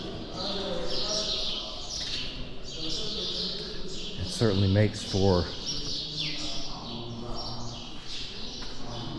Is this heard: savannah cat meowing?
no